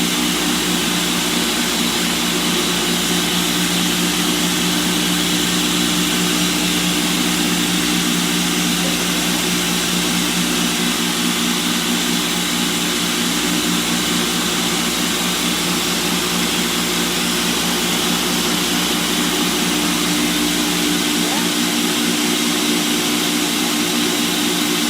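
A food processor blending hummus with tahini, a loud steady whirring motor drone that runs without a break for the whole stretch at close range.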